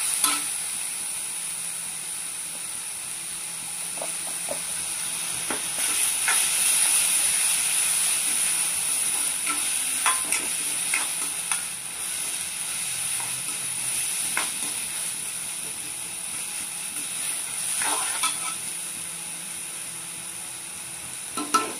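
Chicken kebab coated in spice paste frying on a tawa, a continuous close hiss and sizzle with occasional faint crackles and scraping, steady throughout with no talking.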